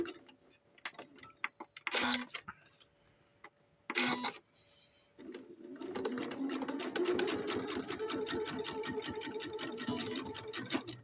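A sewing machine stitches a small padded bra for a large doll, starting with two short bursts and then settling into a rapid, steady run of clattering ticks, close and fairly quiet.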